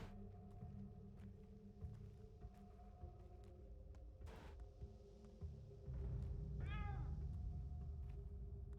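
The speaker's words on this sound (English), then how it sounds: "That cat does not sound happy." An unhappy cat in the video game Pathologic 2 gives a single drawn-out, wavering meow near the end, heard over low ambient game hum and a few soft footsteps.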